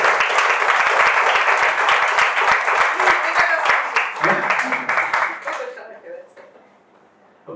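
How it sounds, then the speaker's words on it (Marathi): An audience at a prize distribution ceremony for a story-reading competition gives a sustained round of clapping that tapers off and fades into near quiet. "सगळ्यांनी मिळून एकदा जोरदार टाळ्या स्पर्धकांसाठी"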